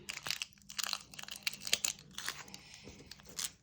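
Paper sticker packets printed with sushi, one with avocado, crinkle and crunch as they are handled and pressed into place, in close, irregular bursts of rustling.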